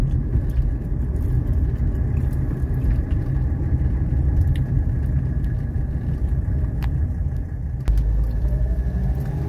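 Car accelerating up a highway on-ramp for a 0 to 60 run, a heavy steady low engine and road rumble heard from inside the cabin, with a brief whine near the end.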